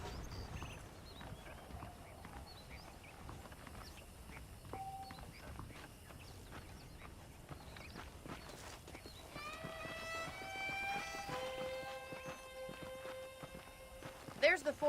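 A horse's hooves clip-clop in the Red Dead Redemption video game, soft rhythmic steps at moderate distance over a quiet ambient background with some short tonal effects later on.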